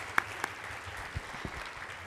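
Conference attendees at an electric vehicles plenary clap for the panelists, a soft, distant patter of applause with a few louder individual claps and thumps standing out near the start.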